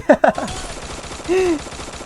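Uzi submachine gun firing in the mobile battle royale game Free Fire, two or three sharp close shots at the start, followed by a short tonal game effect.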